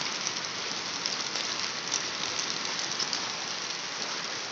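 Rain and hail falling outdoors in a steady, dense, close hiss of drops and pellets striking surfaces, continuous throughout with no voices.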